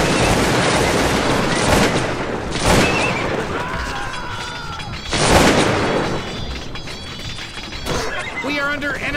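Musket volleys fired in the Cossacks 2 Napoleonic Wars video game: several loud, rolling bursts of gunfire a few seconds apart, with horses whinnying and battle noise in between.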